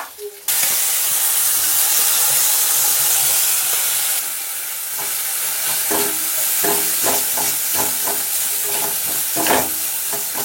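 Flat beans sizzle loudly in hot oil, with a steady hiss and frying crackle. Clattering stirring strokes follow one another at close range, and there is no talking.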